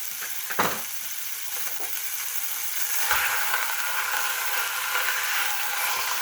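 Two pounds of 73% lean hamburger browning in a pan with a pound of pork sausage, a steady close sizzle and crackle that swells louder about halfway through, with a few stirring scrapes and no talking.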